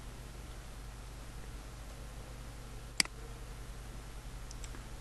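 A single sharp mouse click on a publish button, heard once against a steady faint background hiss with no talking.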